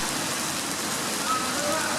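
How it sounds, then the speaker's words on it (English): Heavy rain pours down in Rome, a steady, close hiss of water drumming on surfaces that keeps going without a break. "And it started raining in Rome."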